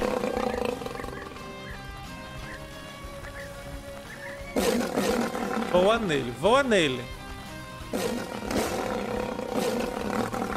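Black-maned lion roaring in the video game Wild Savannah, a series of loud rising and falling roars over a continuous game soundscape, with someone talking over it throughout.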